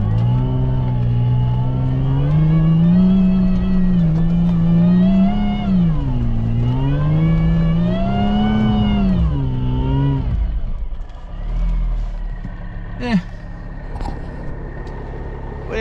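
A supercharged Jeep Wrangler accelerating hard, its engine note rising and falling through several revs over about ten seconds, close and loud, then easing off to a quieter idle with a couple of brief knocks.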